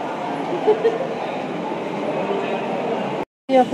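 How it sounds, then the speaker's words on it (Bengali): A metro train bound for Howrah rumbles steadily from inside a carriage, a constant roar with a brief cut near the end and a few faint voices. "মেট্রো করে চলে এসেছি"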